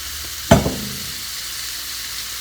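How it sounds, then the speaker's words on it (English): Tebanaka chicken wings hit hot vegetable oil in a pan with a sudden loud sizzle burst that quickly settles into a softer, steady hiss. "put vegetable oil in it. Then put Tebanaka in the pan."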